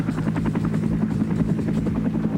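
A military helicopter in flight during the Vietnam War, its loud, steady rotor chop and turbine drone filling the sound continuously at close range.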